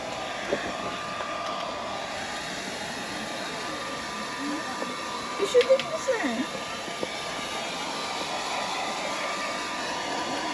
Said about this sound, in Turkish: Şimdi de saç kurutma makinesiyle kurutacak.